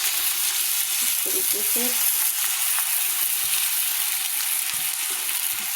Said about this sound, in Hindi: तवे पर डालने के बाद उल्टी साइड तवे पर डाल दिए, सीधी साइड के ऊपर हमने तेल डाल देना है।